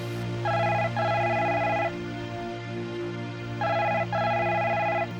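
A telephone rings in two double bursts with a pause between, clear and fairly close over a low background hum.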